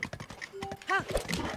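Horse hooves clip-clopping at a gallop in the video game Zelda: Breath of the Wild, a quick rhythmic beat mixed with game effects, under someone talking over it.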